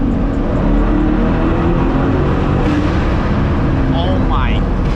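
Straight-piped C8 Corvette on a night drive in Miami, a loud, close, booming exhaust rumble that carries through a downshift, with a voice talking over it.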